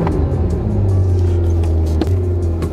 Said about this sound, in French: Le démarrage, on fait préchauffer parce que c'est un mazout